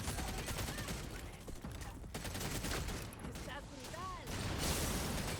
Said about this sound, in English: Whoa, things are exploding.